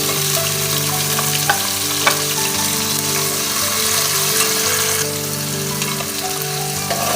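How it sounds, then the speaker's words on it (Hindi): Onions fry in oil with cumin, giving a dense, continuous sizzle with faint stirring sounds and a slight drop in intensity partway through. "प्याज़ों को हम इसमें फ्राई करेंगे गोल्डन ब्राउन होने तक"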